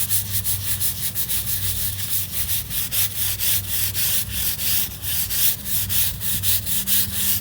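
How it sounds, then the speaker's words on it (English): A patio is scrubbed hard with a bleach solution to remove mold and mildew, giving steady rhythmic bristle strokes, close and loud, repeating roughly every half second throughout with no talk. "You scrub hard."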